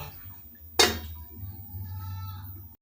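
A lid comes down onto a cooking pot of spiced mixed vegetables with fish head with one sharp metallic clank, followed by a low steady simmering hum.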